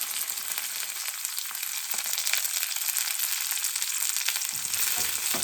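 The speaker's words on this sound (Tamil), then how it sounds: "இதுக்குள்ளே கொஞ்சமாக கருவேப்பிலை போட்டுக்கிறோம்" Curry leaves frying in hot oil in a pan, with a steady close sizzle and crackle running throughout, broken by a few brief pops and stirring sounds, no talking.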